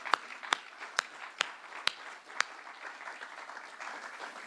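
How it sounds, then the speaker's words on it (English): A few claps for tree-planting volunteers at an outdoor park gathering: a handful of sharp, distinct hand claps spaced about half a second apart, fairly close, then fading into quiet background murmur. "Give a round of applause for them"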